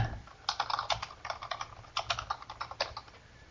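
Typing a password on a computer keyboard in an office, with clusters of light, fast key taps in short bursts and brief pauses between them, close and fairly quiet.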